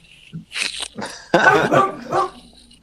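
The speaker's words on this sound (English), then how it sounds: "Dog." A dog barks several times close by, loud and sharp with yelping, whimpering tones, alone with no talking.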